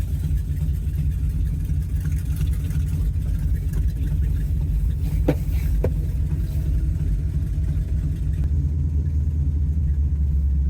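A 1970 Dodge Challenger R/T clone with a 440 Six Pack V8 pulls away, its engine a steady, heavy low rumble that fills the clip with a couple of faint brief clicks over it.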